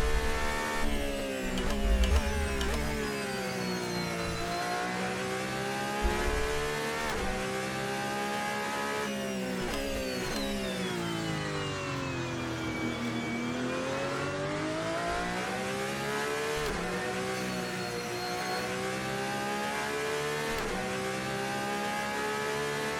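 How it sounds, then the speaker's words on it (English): A Porsche 911 RSR GTE race car in a racing game at the Algarve circuit, its engine screaming steadily and sweeping up and down through the gears, loud and close throughout, with a few brief bumps early on. "Yeah, it's a 911 Porsche."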